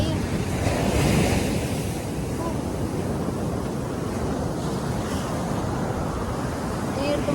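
Ocean surf rolls in steadily at Udupi beach, a continuous broad wash of breaking waves mixed with gusty wind buffeting the microphone, loud and close throughout.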